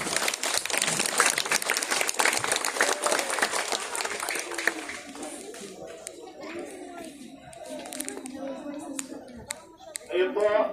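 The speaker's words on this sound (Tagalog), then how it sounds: "pumalakpak muli tayo." A crowd applauding at an Easter Salubong gathering before entering a church, dense clapping that gradually thins out and fades, with voices murmuring underneath as the clapping dies down.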